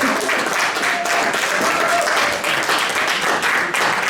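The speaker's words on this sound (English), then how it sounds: "Please, a round of applause." An audience at an integration evening gathering claps loudly and steadily, a close, dense wash of applause that stays even from start to finish with no gaps.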